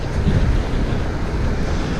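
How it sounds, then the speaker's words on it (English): Gust of wind buffeting a small lightweight bike during an Easter ride, a steady loud rush of broadband wind noise on the microphone that lasts the whole moment. "Oh, there's a nice little gust of wind."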